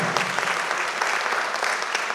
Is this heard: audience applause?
yes